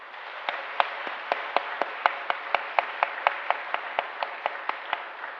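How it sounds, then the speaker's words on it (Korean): A church congregation claps in church, a steady, even rhythm of sharp claps with no voices, moderately close and fairly quiet overall. "그러면 우리 박수로 받겠습니다."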